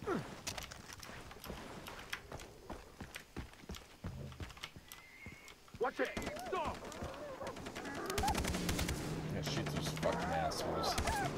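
Gunfire in the video game Far Cry 3 cracks in scattered sharp shots and short bursts, growing denser and heavier toward the end amid other game effects.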